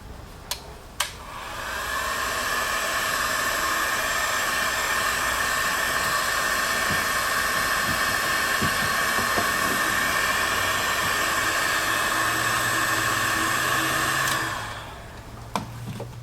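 A heat gun warming the hose barb on a hot tub, switching on with a click and blowing with a steady loud whooshing whine for about twelve seconds before cutting off, with small handling clicks.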